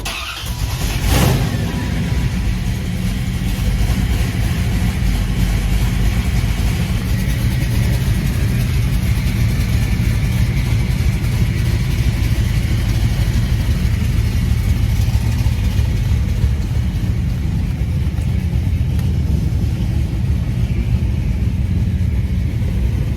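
Chevrolet Impala SS engine idling and running after a rebuilt 4L60E transmission install, a loud, steady, close rumble that continues without a break and no one talking.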